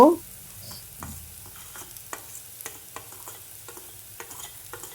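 A spatula stirs a spice mixture of cumin powder, turmeric and salt with onion and curry leaves roasting in a pan. A soft sizzle runs underneath repeated close scraping taps, after a brief loud clatter at the start.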